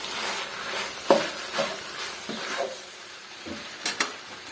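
Chinese-style noodles being stirred and tossed in a pan, with a steady soft sizzle and a handful of scraping, clinking strokes spaced irregularly, close and fairly quiet with no voices.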